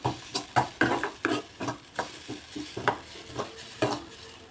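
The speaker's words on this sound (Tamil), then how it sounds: "தேங்காய் தூவி வச்சுருக்கேன் இதையும் நல்லா வறுத்து எடுத்துக்கலாம்" Grated coconut roasting dry in a pan, heard as a quick series of close scraping stirs with a light sizzle between strokes.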